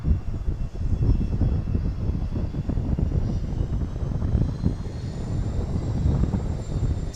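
An airplane landing or taking off at Dallas Love Field, with a steady, loud, rumbling engine roar that holds continuously throughout, with no talking.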